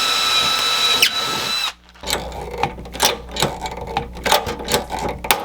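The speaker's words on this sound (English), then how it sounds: "I'm going to drill my hole through all three pieces." A power drill bores a hole through three stacked wood pieces of a homemade rabbit feeder, its steady whine giving way to a series of uneven grinding bursts close by, with no talking.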